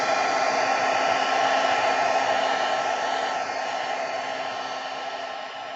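Steady whooshing roar of a heat tool melting embossing powder for card making, loud and continuous for several seconds, easing slightly toward the end, with no voices.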